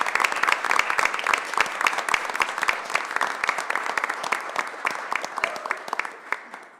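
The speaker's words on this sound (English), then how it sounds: "Why don't we give them a round of applause really quick?" Clapping rises at a school board meeting to honour high school students who earned a seal, distinct claps rattling from a modest crowd before thinning and fading out toward the end.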